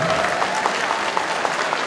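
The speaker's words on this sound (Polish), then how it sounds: "Ośmielę się ponownie prosić o wielkie brawa," Audience at a Polish kickboxing gala applauding steadily, a dense even wash of clapping from a large crowd, with a faint voice line in the background.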